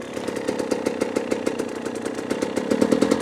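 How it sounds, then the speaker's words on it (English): Husqvarna enduro motorcycle engine idling high at a pay-and-play track, a steady, rapid, evenly pulsing drone heard up close and continuous, swelling slightly louder toward the end. "The idle's quite high"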